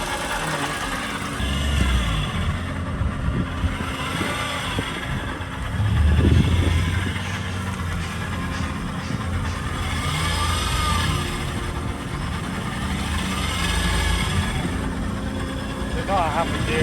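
A car driving with a struggling gearbox, a steady mid-low engine drone with shifting tones and a brief louder strain partway through, heard from inside the cabin, with a person talking over it.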